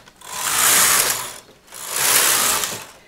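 Two long sweeping passes of a knitting machine carriage knitting rows for a Japanese circular cast on, each a loud whirring, ratcheting rush that swells and fades with a short gap between.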